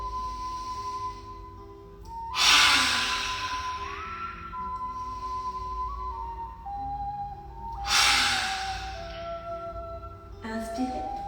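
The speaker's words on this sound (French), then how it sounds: "Expirez, respiration du lion." Two forceful, breathy lion's breath exhalations during a yoga flow, each a loud broadband whoosh lasting about two seconds, with a third shorter burst near the end over a steady tonal background.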